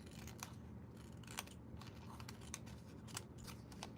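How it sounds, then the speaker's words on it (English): Scissors trimming the edge of a paper page for a junk journal, a series of quiet, close snipping cuts in an irregular rhythm with no talking. "So let's get some scissors. And I'll start by trimming this side over here."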